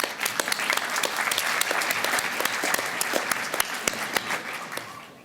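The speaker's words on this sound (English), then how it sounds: "you all definitely deserve a round of applause" Audience in a room applauding for several seconds, a dense wash of clapping with sharper individual claps standing out, tapering off at the very end.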